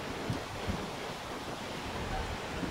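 Steady wind gusts outdoors at a cremation ground, a broad continuous rush with slight swells, moderately loud and alone with no voices.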